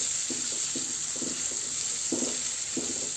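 Finely sliced small onions with curry leaves fry in hot oil in a pan, a steady sizzle broken by soft scraping stirs at a regular rhythm, with no talking.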